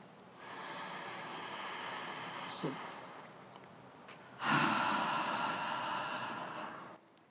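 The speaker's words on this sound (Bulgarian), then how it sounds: "Вдишвам през носа." Slow inhalations drawn in through the nose during a breathing exercise, a soft airy hiss that swells into a longer, stronger intake partway through before fading out.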